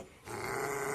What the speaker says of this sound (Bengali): ভিডিও করার সময় শুধু ঘেউ ঘেউ করে।